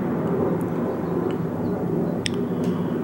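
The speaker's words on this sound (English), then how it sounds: "you hear the airplane" A fixed-wing airplane passes overhead near a road beside a park-like area, a loud steady roar filling the whole clip with a few faint clicks on top and no talk.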